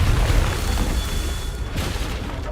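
A Confringo fire spell detonating in Hogwarts Legacy: a loud, rumbling low boom that swells at the start and slowly decays, with a second, softer burst near the end.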